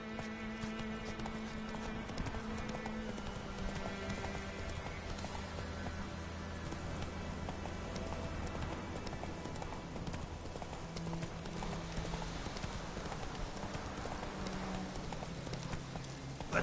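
Roach the horse trots in The Witcher video game, steady rhythmic hoof clip-clops continuing throughout over soft game music and ambience.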